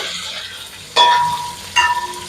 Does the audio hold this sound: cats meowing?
no